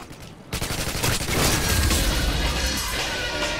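Dense, sustained automatic gunfire from Call of Duty MW2 bursts in after a brief quiet moment, loud and close, with rapid overlapping shots continuing to the end.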